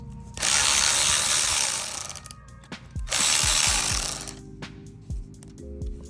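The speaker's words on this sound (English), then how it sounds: "you're basically just gonna get a wrench and hold it on this little part to keep it secure while you get the nuts out." A wrench or ratchet is used to remove nuts from the shifter of an EG hatchback, with loud bursts of rapid mechanical ratcheting and metallic clicks and clunks in between.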